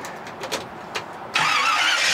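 A food truck engine with a small carburetor turns over with a few faint, spaced clicks, then abruptly catches and settles into a loud, steady run close by.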